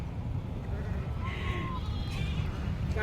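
Goats bleat a few times at moderate distance over steady outdoor background noise, with faint human voices mixed in.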